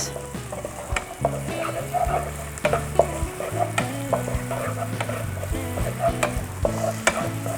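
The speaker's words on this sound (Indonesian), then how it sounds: "Kita masukkan bawang bombay. Kita tumis." Chopped onion is stirred and sizzles steadily in melted butter over a low flame, with repeated scraping strokes and a constant frying hiss, and music plays underneath.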